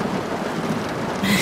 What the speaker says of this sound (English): The forecast promises thunderstorms until morning.